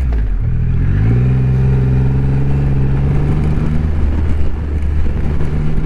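A Triumph Rocket 3 GT motorcycle rides down the road, its engine loud and close, rising in pitch as it accelerates, then holding steady before easing off and picking up again, with no talk.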